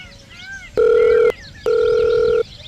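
A phone call being placed produces two clear electronic ringback tones in quick succession, loud over a faint background of other sound.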